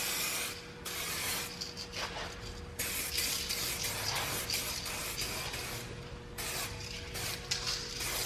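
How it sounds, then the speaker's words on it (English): A SprayMax 2K clear coat aerosol can sprays onto red-painted brake calipers of a Tesla Model Y, with steady close hissing bursts separated by a few short pauses, and no talking. "I'm gonna spray a light coat and then I'm gonna follow it up immediately with a solid heavy coat"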